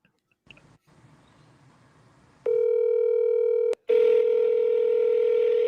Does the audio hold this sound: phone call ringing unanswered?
yes